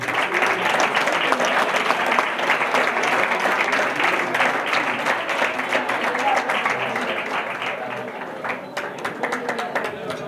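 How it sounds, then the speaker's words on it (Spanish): Loud, sustained audience applause on a television cooking competition as a chef is introduced, a dense, continuous wash of clapping that tapers slightly toward the end. "El chef, aplauso, Roberto Marín."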